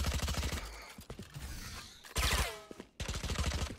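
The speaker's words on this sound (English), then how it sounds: "Reloading." A weapon is reloaded in the shooter game Valorant with sharp mechanical clicks and ratcheting clatter, broken up by loud bursts of close gunfire before and after.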